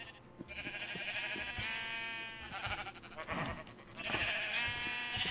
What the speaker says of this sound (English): Oh, look at all the white sheep.